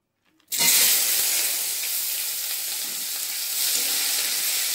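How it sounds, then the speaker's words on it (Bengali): Chopped onions hit hot oil with a sudden loud sizzle that settles into a steady, close frying hiss, with no one talking. "পেঁয়াজটা ভালো করে ভেজে নেব"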